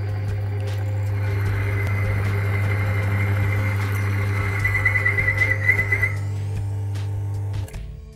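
A running engine being tested with an oil additive lubricant gives a steady, fairly loud low hum with a thin whine above it that holds for several seconds and then drops away near the end.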